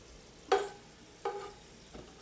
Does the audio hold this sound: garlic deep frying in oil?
yes